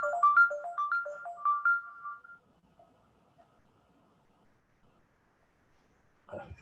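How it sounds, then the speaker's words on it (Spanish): A telephone rings in short repeated electronic bursts for about two seconds, then goes quiet, with a brief louder knock or rustle near the end. "Que sonó justo el teléfono"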